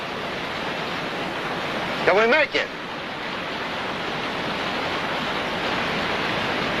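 Rough river water rushes in a steady, loud broadband roar that fills the whole clip, with a brief spoken voice breaking in over it partway through.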